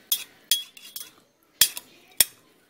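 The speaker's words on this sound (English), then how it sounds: "This is just a frosting spreader that I use. So squish it around, make sure it's all covered" A frosting spreader scrapes and taps against a jar while stirring lavender buds in vodka, making a handful of sharp, separate clinks and scrapes with near-silent gaps between them.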